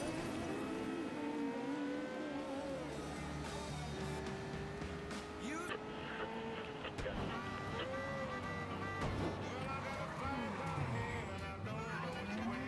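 A car in Mafia 3 drives along with its engine revving and shifting pitch, rising and falling through gears over game ambience, while a person talks at times.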